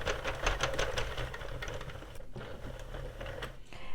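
A Sentro or Addi knitting machine cranked to knit stitches across a sweater panel, making a steady, quiet, rapid clicking and rattling that runs continuously with one brief pause.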